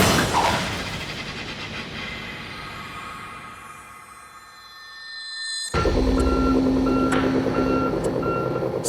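Truck reversing alarm beeping in a steady repeating pattern near an overgrown mangrove salvage site, entering abruptly over a loud idling engine after a quieter stretch of low rumbling.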